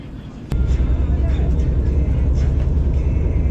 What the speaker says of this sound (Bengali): নিউ আলিপুরদুয়ার তো আলিপুর থেকে আমাদের ট্রেন ছেড়ে দিয়েছে